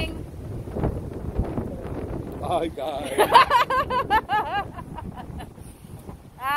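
Strong wind buffets the microphone on an outdoor walk at Keil's Den, rumbling and gusting throughout while someone talks over it.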